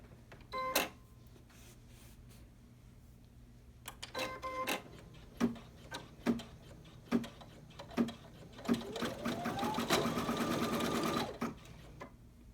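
Embroidery machine stitching to tack down fabric on a bag front: rhythmic mechanical clicks and needle taps at regular intervals, then a rising motor whir as it runs faster, all close and without talking.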